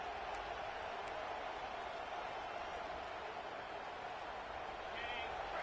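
Home crowd at a football game roaring on a third down, a dense, steady wash of cheering that fills the whole stretch without pause, heard from within the stadium.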